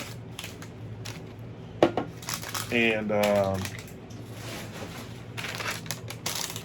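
Packaging paper from action figure boxes crinkles and rustles close by in bursts, with a brief spoken exclamation partway through and steady background hum.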